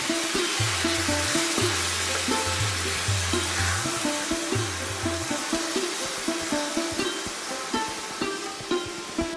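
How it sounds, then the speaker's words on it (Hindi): Minced meat frying in melted butter for a Kolkata-style chicken mughlai, a steady loud sizzle with faint stirring clicks throughout and a low background hum. "सारे कीमे को इसमें डाल देंगे और इसमें डाल के एकदम दानेदार फ्राई करेंगे, एकदम दानेदार भून लेंगे।"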